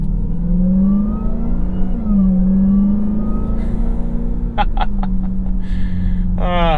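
A 2025 Dodge Durango SRT Hellcat with over 700 horsepower, driven in Sport mode, gives a steady, loud engine drone whose pitch rises and dips as it accelerates, with a few brief chirps and sharper sounds near the end.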